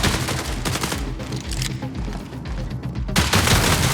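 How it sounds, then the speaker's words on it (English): Rapid gunfire from a sidearm in the video game Marathon, a dense loud burst of shots with booming low impacts, a brief lull and then a renewed volley. "The sidearm is a gun that is effective in close quarters"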